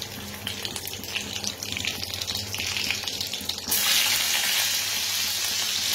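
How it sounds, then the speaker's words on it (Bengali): Dried and green chillies frying in a pan, a continuous hissing sizzle with faint stirring, growing louder and brighter partway through. "এরপর দিয়ে দিলাম কাঁচা লঙ্কাটা। এবার এটা একটু ভাজা ভাজা করে নিই।"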